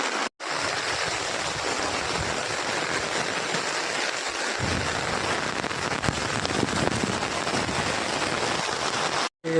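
Steady heavy rain pours down over flooded farm fields of potatoes, pointed gourd and radish, a dense continuous hiss and patter close by with no voices, cutting off briefly at the start and end.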